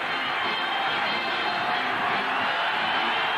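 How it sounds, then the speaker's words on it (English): Football stadium crowd on third down in an Arkansas versus Texas game, a steady, broad roar of many voices that stays loud and even throughout with no clear breaks. "Listen to this crowd now on third and nine."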